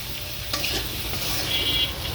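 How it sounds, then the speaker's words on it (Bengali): Potatoes frying in oil in a pan while being stirred, a steady close sizzle with scraping stir strokes throughout, no voices. "সুন্দর করে আলুটা ভেজে নেব"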